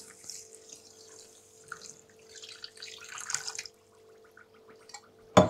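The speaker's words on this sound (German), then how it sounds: "Und jetzt Wasser darüber." Water poured into a bowl as a faint, uneven trickle and splash, with scattered drips and a louder splash at the very end over a quiet background hum.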